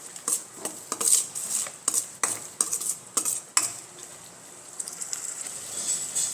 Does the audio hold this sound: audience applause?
no